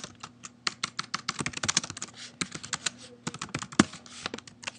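Keystrokes on a computer keyboard, rapid and irregular, with close clicking bursts and a few short pauses, no talking.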